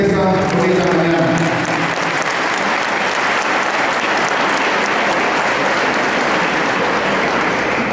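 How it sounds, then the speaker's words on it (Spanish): Loud, warm applause fills a morning civic gathering as the audience welcomes licenciado Romo, dense steady clapping sustained throughout with a faint murmur of voices underneath. "lo recibimos con calurosos aplausos en esta bonita mañana"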